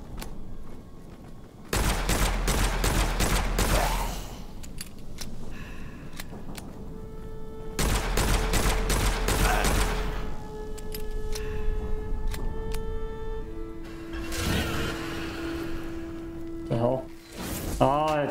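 Pistol shots crack in bursts during a fight in the dark fantasy shooter Witchfire. Two dense clusters of rapid firing are separated by quieter stretches filled with ambient tones and other effects, and a voice talks over the action.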